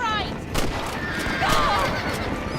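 A horse whinnies in Red Dead Redemption, with a high wavering neigh near the start and a second one midway, both set against a steady wash of gunfire and battle noise.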